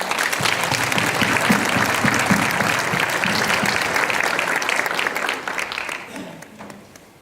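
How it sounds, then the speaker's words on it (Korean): Big audience applause in a church welcoming a pastor to the pulpit, loud dense clapping sustained for several seconds before tapering and fading toward the end. "나오실 때 큰 박수로 환영하겠습니다"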